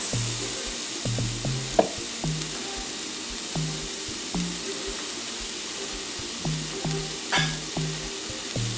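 A beef burger patty fries in a non-stick pan, a steady broadband sizzle running throughout with intermittent low tonal knocks and a few brief clatters of utensils against the pan.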